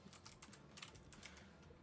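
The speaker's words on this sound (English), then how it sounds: "typing in brand new cards that don't show up on spell table" Quick clicks of fingers typing on a computer keyboard while entering new Magic: The Gathering card names during an online Commander pod game, a steady run of soft, close keystrokes with no talk.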